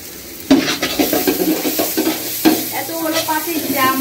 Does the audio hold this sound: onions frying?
yes